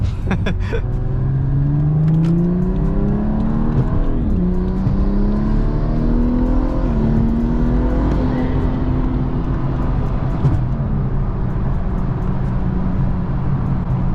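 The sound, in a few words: BMW car approaching fast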